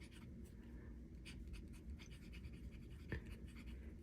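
A pen scratches across toothy, grippy paper in soft, faint strokes, each one a brief rasp in an irregular writing rhythm.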